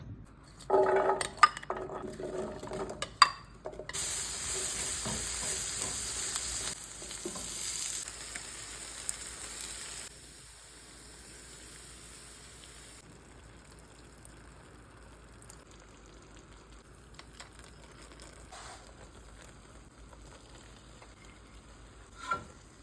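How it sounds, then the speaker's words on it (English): Celery and onion cooking down in a pan for Sicilian caponata, a bright hiss of frying over the first ten seconds with a few clinks, then a quieter, fainter sizzle that lingers to the end. "So now I'm gonna cook down the celery, the onion, and then I'm gonna start building up the sauce."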